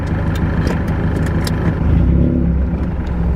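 A car with a welded differential being test driven forward and in reverse, its engine running steadily with a rise in revs near the end, close and alone with no talk.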